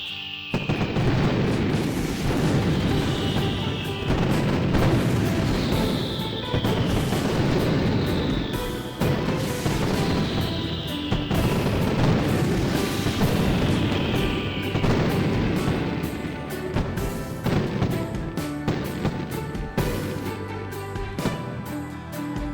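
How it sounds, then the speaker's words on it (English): Fireworks in the video game Garry's Mod go off in a steady series of loud booming bursts, each preceded by a falling whistle, repeating every couple of seconds for over twenty seconds with no talking. "And let the fireworks glow."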